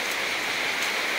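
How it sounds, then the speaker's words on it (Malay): Heavy rain pours steadily and densely onto a leaking rest house at night, a close, continuous hiss with no voices. "biarpun hujan turun dengan lebat"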